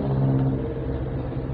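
Road traffic in Pote, Las Piñas, a steady low rumble and whir of passing cars and engines, continuous and even with no clear single vehicle standing out.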